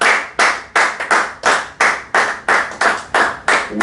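Rhythmic clapping from a church congregation after a Bible reading, loud regular claps in a steady beat with each one ringing out briefly, no talk.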